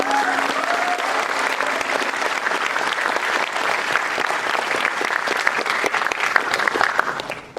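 After a student dramatics club play at IIT Ropar, the audience breaks into loud, sustained applause that stays dense and steady for about seven seconds before cutting off.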